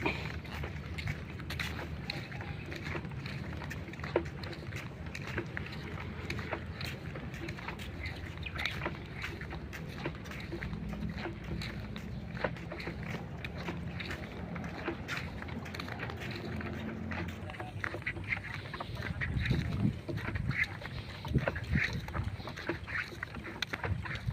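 Steady engine drone and rushing water from a boat under way, with wind buffeting the microphone throughout and no clear talking.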